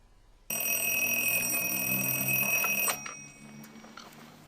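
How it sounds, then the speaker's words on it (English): Several alarm clocks ring together around a bed in a film scene, a loud, continuous, shrill metallic ringing that starts abruptly and cuts off after a couple of seconds, followed by a few faint clicks. "Actually, it turns out there are lots of alarm clocks around the bed, and Tom is sleeping next to him"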